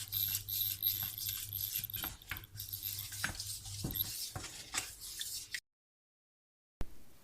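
A utensil stirs a flour and oil paint mixture in a pot being heated, making soft irregular scrapes and light knocks, then a short stretch of silence.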